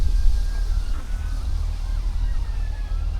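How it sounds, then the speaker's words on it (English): Emergency vehicle sirens wail faintly in the distance around a canal near Stone, rising and falling under a low, steady rumble of wind or a boat engine. "Sirens going off left, right and centre"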